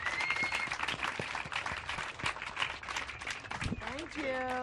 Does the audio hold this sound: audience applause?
yes